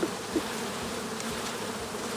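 A dense, continuous buzz of many honeybees swarming close around an open hive frame, steady and loud with no talking.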